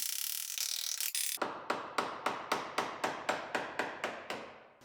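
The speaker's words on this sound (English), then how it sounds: "So now we'll knock the heads off the rivets." A dozen sharp metallic hammer strikes knock the heads off rivets on a 2017 GMC Terrain Denali, ringing out in a steady, evenly spaced rhythm, close and loud, following a short burst of scraping.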